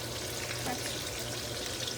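Onions frying in oil in a pan, cooked for a chicken dish, make a steady, dense, close-up sizzle with fine crackling and no pauses.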